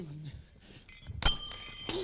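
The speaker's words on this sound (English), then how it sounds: "every time a bell rings" A bell rings briefly with a bright, sustained metallic tone that lingers for under a second, following some muffled movement and faint vocal sounds.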